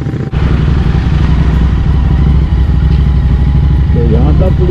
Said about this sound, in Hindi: तो फिलहाल करते हैं बाइक स्टार्ट